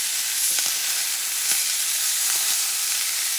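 Portuguese sausages frying in a pan beside bread make a loud, continuous close sizzle with faint pops and crackles scattered through, and no voices.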